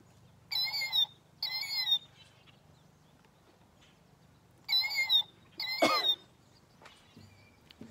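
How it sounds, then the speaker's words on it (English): A bird call toy plays a killdeer call as a few sharp, shrill whistled phrases in separate bursts with pauses between, loud and close, followed by a faint rustle. "It's a killdeer."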